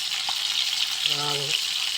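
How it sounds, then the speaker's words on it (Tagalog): Steady, loud sizzling of fish frying in hot oil in a pan, with a brief voiced sound partway through. "Prito na po kayo isda."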